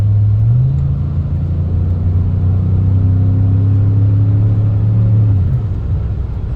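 A Cadillac DTS gets a light blip of throttle, giving a deep, steady engine rumble close by. Its pitch steps up early, holds for several seconds, then drops away as the driver lifts off.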